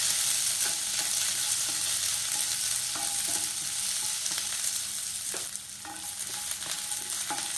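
Garlic cloves and onions sauté in a pan for a vegetable white kurma, a continuous close sizzle with occasional light scrapes and stirs of a utensil.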